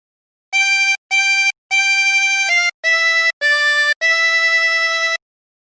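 A chromatic harmonica plays a phrase of Hark The Herald Angels Sing as seven separate reedy notes in an even rhythm, several short and the last held longer, close and alone.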